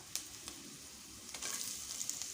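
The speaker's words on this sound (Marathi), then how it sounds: "कांदासुद्धा तेलामध्ये छान असा फ्राय करून घ्यायचा आहे परतून घ्यायचा आहे" Finely chopped onion sizzles in hot oil, a faint, short burst of crackling with a few stirring scrapes.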